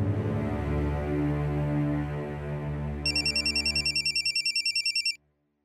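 A telephone rings with a rapid electronic trill in repeated bursts over a steady background hum, then stops abruptly.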